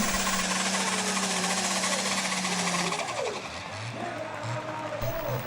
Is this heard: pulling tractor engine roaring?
yes